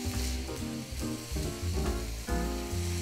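Ground meat seasoned with garlic powder, cumin and salt sizzles loudly in a pan as it is stirred, a dense close crackle with rhythmic surges from the spoon and no talking.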